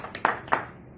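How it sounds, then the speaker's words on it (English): Two sharp handclaps about a quarter second apart at a Lions Club welcome for its international president, close and fairly quiet, then fading into silence. "Let us welcome him with a round of applause."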